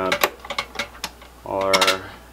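Memory bay latches on a Dell T320 server snap open in a quick series of sharp plastic clicks, close and distinct, with a voice speaking over the last part.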